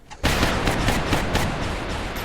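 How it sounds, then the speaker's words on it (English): Reaction-fire gunshots in XCOM Long War, a sudden volley of loud shots starting after a quiet instant and continuing as rapid overlapping bursts for about two seconds. "Right, loads of low-level reaction fire."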